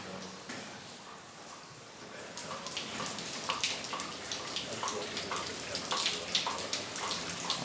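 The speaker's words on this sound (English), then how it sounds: "It's a mental amount of water pouring in over this panel." Water pours in over a panel inside an abandoned car factory, a soft steady splashing and patter that grows busier partway through, heard faintly from nearby.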